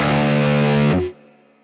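One short, loud chord of distorted electric guitar through a Neural DSP Mesa Boogie Mark IIC+ amp simulator, held for about a second before a sharp palm-muted stop leaves a faint ringing tail.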